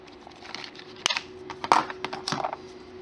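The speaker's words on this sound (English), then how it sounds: "Just cut a piece of wire" Wire being snipped with cutters while making a clay fairy house: a few sharp, close metallic clicks and snaps, with faint handling noise between them.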